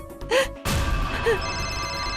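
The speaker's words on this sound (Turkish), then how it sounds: "aç şu telefonu" A telephone rings with a steady electronic tone over room ambience in a Hindi drama scene, preceded by a brief gasp-like vocal sound.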